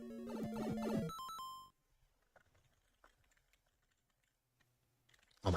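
After a brief musical jingle, a computer keyboard still damp from spilled water is typed on with quiet, scattered key clicks.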